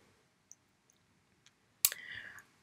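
A mouse button clicks once on a continue button, following a few faint ticks, with a brief scraping rustle right after the click in an otherwise quiet room.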